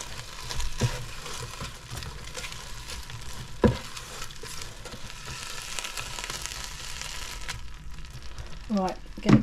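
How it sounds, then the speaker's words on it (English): Chicken chow mein sizzles and crackles steadily in an air fryer basket as it gets stirred, with a few sharper clanks of the utensil and basket, close and moderately loud throughout. "Hear that sizzle?"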